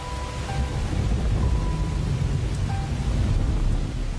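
A heavy rainstorm roars as a steady dense wash of rain, with low rumbling like distant thunder underneath and faint tonal sounds drifting through, no voices present.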